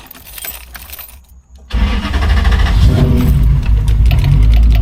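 Keys jingle briefly, then after a short pause the 1UZ V8 engine of a Nissan S13 drift car cranks and catches, settling into a loud, steady idle.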